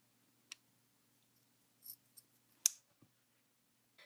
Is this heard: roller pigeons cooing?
no